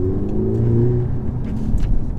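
A 2008 Audi TTS engine, fitted with a resonator delete, revs briefly from idle with a rising then settling tone, loud and close inside the cabin, with no talk over it.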